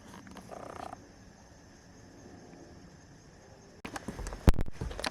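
Frogs croak near a running creek in a quiet swamp forest, a steady low chorus with a denser burst early on and louder nearby rustling and knocks toward the end.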